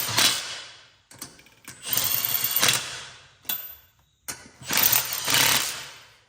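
A ratchet tightens wheel adapter lug nuts in a crosshatch pattern on steel wheels, producing bursts of rapid clicking in several separate runs with short pauses between them, close and fairly loud.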